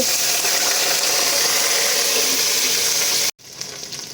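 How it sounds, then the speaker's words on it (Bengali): Sliced okra frying in hot mustard oil gives a steady, loud hiss that runs on before cutting off abruptly near the end, leaving a quieter crackle. "তেলটা গরম হয়ে আসলে এখানে কেটে রাখা ঢেঁড়সটাকে আমি ফ্রাই করে নেব"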